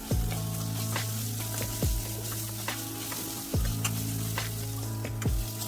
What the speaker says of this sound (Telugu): ఇందులో ఇప్పుడు 1 స్పూను అల్లం వెల్లుల్లి ముద్ద వేసుకుని దాన్ని కూడా పచ్చివాసన అంతా పోయేంత వరకు